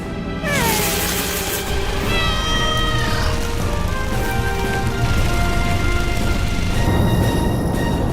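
A cat meows loudly several times, drawn-out and rising, over a dense, constant rushing noise.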